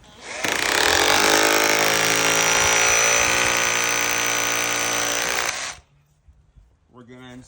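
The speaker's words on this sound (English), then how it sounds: "We're gonna use a power drill, hammer action." Power drill in hammer action boring into concrete to set a plastic molly for a gutter strap, a loud continuous rattling whine for about five seconds that then stops, followed by a brief voice.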